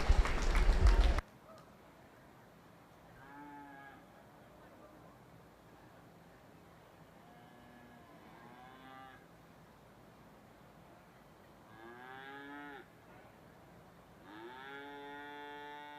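Cattle at a 4-H/FFA beef heifer show give several drawn-out moos, faint and somewhat distant, spaced across a quiet barn after a brief loud burst of noise at the start.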